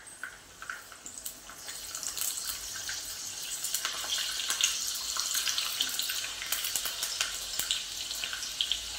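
Garlic hisses and sizzles in hot oil in a pan for a tadka, a bright, steady frying crackle that swells and holds close by without talk.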